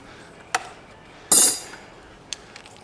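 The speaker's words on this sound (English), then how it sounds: "Get that wrench out." Metal tools clink while a fire-damaged 1969 VW Beetle engine is being disassembled: two brief light clinks, one louder clattering strike with a short ringing tail, and a few faint taps against quiet shop background.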